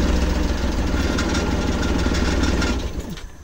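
A Rusco multicab engine with a hard-starting fault and no muffler idles by itself with the accelerator untouched, a loud, steady, rumbling chug close by that drops off slightly near the end.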